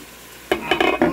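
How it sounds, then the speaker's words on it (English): Food frying on a camping stove, a loud sizzle bursting in suddenly after a quiet stretch and crackling in uneven surges, with no talking over it. "we got the stove fired up again"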